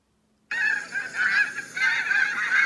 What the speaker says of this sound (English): Canadian geese sound.